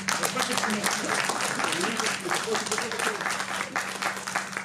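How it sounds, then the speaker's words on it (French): An audience at a cinema festival presentation applauds a scriptwriter and author, a dense continuous clapping with a steady low hum and some voice underneath. "Vous pouvez tous aussi applaudir Jack Machio."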